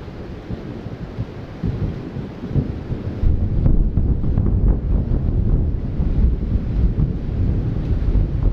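Thunder rumbles loud and distorted over gentle rain in Costa Rica, the overdriven recording crackling as a heavier roll builds midway and keeps rumbling to the end.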